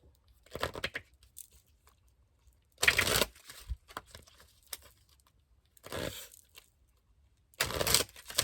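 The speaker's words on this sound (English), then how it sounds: "that's just me shuffling and cards just flowing out" A deck of cards is shuffled by hand in several short bursts of riffling and flapping, separated by quiet gaps. The sound is close and fairly loud, with no talking.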